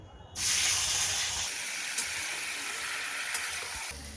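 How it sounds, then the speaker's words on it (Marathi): Sliced potatoes hit a hot oil tempering with asafoetida and curry leaves, setting off a sudden loud hiss that stays as a steady, close sizzle. "आता आपण जे बटाट्याचे काप केलेले ते आपण फोडणीत टाकूया।"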